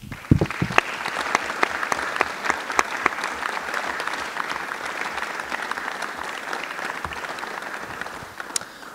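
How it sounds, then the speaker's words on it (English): Audience applause welcoming candidates at a city council district debate, a moderately sized crowd clapping steadily with distinct individual claps audible. "please join me now with a hearty round of applause welcoming our candidates"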